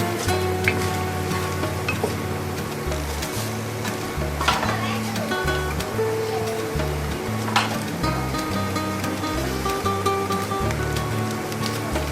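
Masala spices fry in oil for nihari with a steady crackling sizzle, while thumping stirring strokes and clinks of a utensil come through and a voice talks over the cooking.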